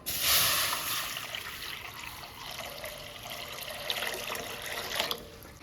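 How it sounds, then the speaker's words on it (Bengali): Water runs steadily from a tap onto peas in a pot for boiling, a continuous close splashing stream with no talk. "প্রথমে আমি মটরটা সেদ্ধ করে নেব তার জন্য আমি জল দিয়ে দেব"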